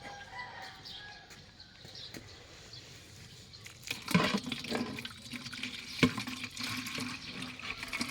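Water runs from an outdoor tap beside a house for watering a vegetable garden, a steady rushing splash that grows louder midway, with chickens clucking faintly nearby.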